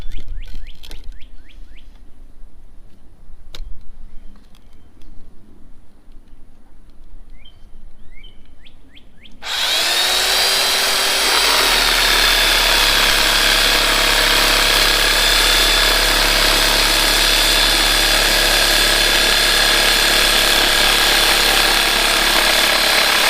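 Birds chirp faintly outdoors at first. Then a power tool, run from an Oupes 1800-watt portable solar generator, starts abruptly and keeps up a loud, steady, close-up buzzing roar.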